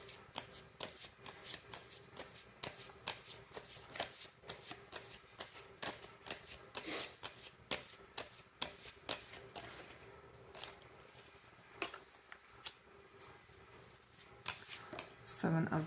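A deck of ordinary playing cards being shuffled, a dense run of quick riffling flutters and soft snaps close up, fairly quiet, with a brief louder burst near the end.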